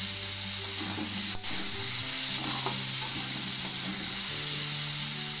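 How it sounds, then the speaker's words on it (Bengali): Vegetable curry (sabji) sizzling in oil in a pan while being stirred and fried, a steady close crackle with occasional scraping clicks from the spoon throughout. "এটা একটু ভাজা ভাজা করে নেবো, ভালো করে কষিয়ে কিংবা ভাজা ভাজার মতো হয়ে যাবে"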